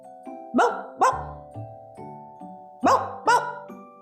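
A puppy barks in two quick pairs, loud and close, with short pauses between and softer tonal sounds in the gaps.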